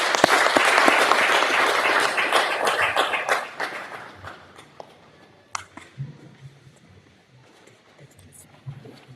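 An audience applauds to welcome a speaker at the unveiling of a children's ward at St. Joseph's Kitovu Hospital. The clapping is dense and loud at first, then thins to scattered claps over the last few seconds.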